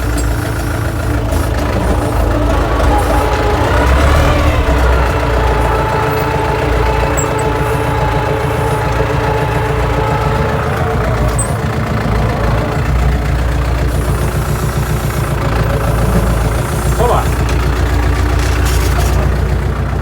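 Tractor engine pulling a seedling planter for cabbage while turning, a loud continuous diesel rumble that swells as the throttle opens, steady throughout with no talk.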